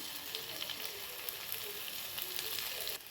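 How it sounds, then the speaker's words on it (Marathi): Dense, crackling sizzle of green chili thecha frying in hot oil tempering, steady and close throughout, with a slight drop near the end. "ठेचा घालून छान परतून घ्यायचं फोडणीमध्ये"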